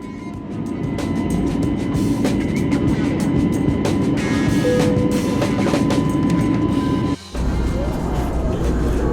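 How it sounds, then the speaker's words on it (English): Cabin noise aboard a Jetstar Airbus A321neo at cruise around 35,000 feet on a Melbourne to Sydney flight: a loud, steady broadband roar with a brief dip near the end. "we are underway on the Jetstar A321NEO"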